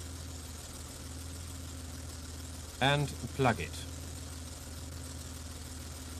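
Warm BMW engine with K-Jetronic continuous injection idling steadily in a low, even hum, while someone speaks briefly in the middle.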